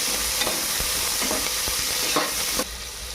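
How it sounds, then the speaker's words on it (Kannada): Green chillies fry in a pan for a vegetable pulao, giving a loud continuous sizzle with several sharp spatula scrapes and stirs over about three seconds, then the hiss drops slightly. "ಈಗ ಮೆಣಸಿನ್ಕಾಯಿ ಹಾಕೊಳಕತ್ತೀನಿ ಸ್ವಲ್ಪ ಫ್ರೈ ಮಾಡೋದು"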